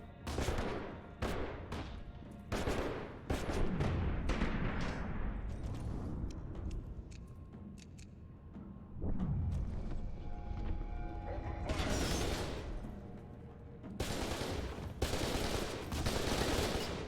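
Gunfire in F.E.A.R. 2: Project Origin, sharp bursts of automatic weapon shots in separate clusters, mixed with mechanical clanks and creaks, loud and close, with gaps of quieter background between volleys.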